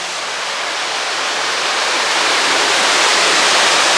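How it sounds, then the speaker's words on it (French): The Cascade aux Écrevisses, a waterfall in Guadeloupe, roars as a loud, steady, broadband rush of falling water, unbroken and close, with no voices. "on est à la cascade aux écrevisses"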